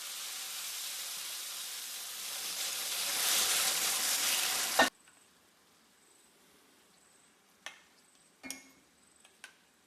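Chicken and gravy sizzle loudly in a pan for about five seconds before the sound cuts off abruptly, leaving quiet with a few light clicks and taps.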